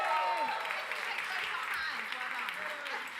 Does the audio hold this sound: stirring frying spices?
no